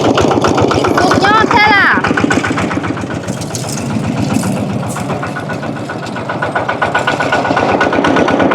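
A rice threshing machine engine runs loud and steady, chugging with a rhythmic mechanical rattle, while voices shout and talk over it.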